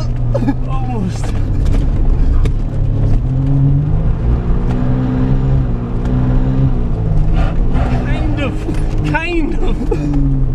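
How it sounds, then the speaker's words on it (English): Suzuki Cappuccino Turbo kei car drifting, its turbocharged engine droning and revving steadily with tyre noise suggesting skids, heard from inside the car under continuous talk. "It sounds like there's noises coming like we're skidding"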